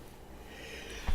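A person sneezes once on a talk show set: a single short, loud burst at the very end, after a second of quiet room tone.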